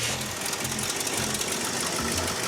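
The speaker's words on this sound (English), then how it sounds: "I'm gonna start the engine to see if we can get some shampoo to drop in." A car engine running at idle, steady and close, with a rhythmic pulsing hum and a faint knocking beat throughout, no voices.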